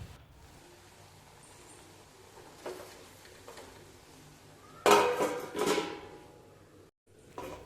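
A metal lid is lifted off a cooking pan of brinjal kadayal, giving a couple of close clanks and scraping rattles after a quiet stretch, followed by a brief thud.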